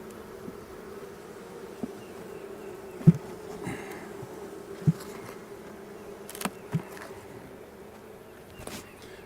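Honey bees buzzing around an open beehive during a spring nectar flow, a steady close drone with individual bees whizzing past the listener now and then.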